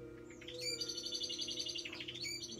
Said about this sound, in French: Les oiseaux s'affolent.